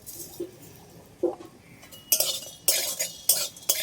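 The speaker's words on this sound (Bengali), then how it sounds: "খালি কড়াইতে কিছু মশলা হালকা করে একটু নেড়ে চেড়ে নেব।" Dry chillies, black pepper, bay leaves, ginger and cumin are stirred in an empty wok, with short scraping bursts and metallic clinks of a spatula, close and fairly quiet, separated by brief pauses.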